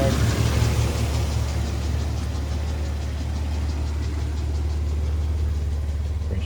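Steady, close low rumble of a 1993 Toyota Land Cruiser FZJ75 Troopy with its 1FZ-F 24-valve inline-6 petrol engine idling smoothly and evenly indoors, with no voices over it.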